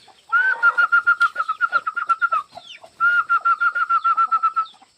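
Chickens in a dim shed cluck and call in quick rhythmic bursts, a sustained tonal whistle running through two long stretches with a brief pause between, close and fairly loud.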